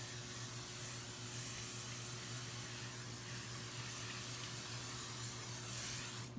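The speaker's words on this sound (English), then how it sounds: "I'm gonna put non-stick butter into our pan, and I'm gonna spray it" A continuous hiss of a non-stick cooking spray can spraying into a baking pan for several seconds, close and steady, with a faint hum underneath.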